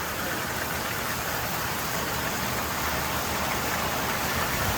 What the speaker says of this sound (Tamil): பாருங்கள், மழையை பாருங்கள், வெளுத்து வாங்குதுங்க.